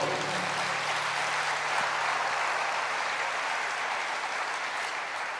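A church congregation applauds during a sermon, a broad continuous roar of many hands clapping that holds steady and full throughout, somewhat distant and reverberant.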